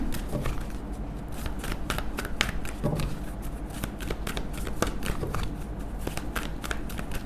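A deck of tarot cards is shuffled continuously up close, a rapid papery riffling and flicking that runs throughout with no speech over it.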